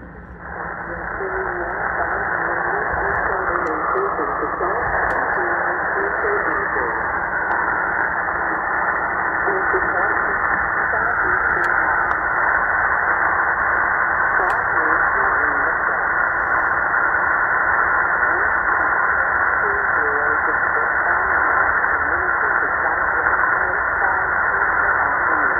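Shortwave SSB signals tuned on an XHDATA D-808 receiver, a steady band of garbled sideband voice and hiss with faint whistling tones, continuous and fairly loud throughout with no other sounds.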